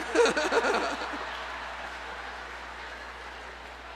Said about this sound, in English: Those are your parents clapping